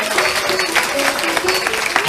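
An audience at a Bhagavatam katha in Rajouri Garden, Delhi applauds the dholak players with steady, dense clapping that fills the whole moment, with a faint tonal hum beneath.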